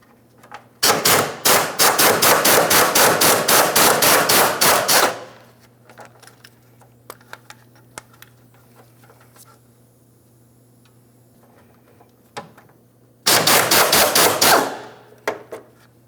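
A power tool zips out the 10mm bolts holding the fuel tank to the center mounting bracket on a 2007-2014 Ford Edge 3.5L V6: one loud rapid rattling burst of about four seconds, a quiet pause, then a second short burst.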